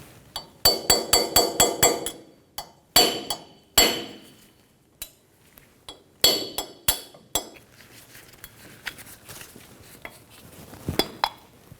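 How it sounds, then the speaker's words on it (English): A hammer and punch tap off a wheel hub dust cap on a 2005-2010 Toyota Tacoma: sharp metallic taps and clinks in quick clusters, then scattered strikes with pauses. Close and crisp, nobody speaks. "Using a hammer and a punch, we're going to remove the dust cap."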